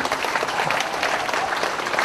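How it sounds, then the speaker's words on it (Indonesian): Audience applause at a Buddhist Dhamma talk, a steady dense wash of many hands clapping together, moderately loud and continuous for a couple of seconds with no voices over it. "Iya baik, tepuk tangan ya."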